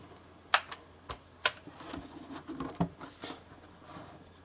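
Quiet, uneven key clicks and taps from a Bloody B740A mechanical keyboard, a few sharper strikes standing out, close up with no talking.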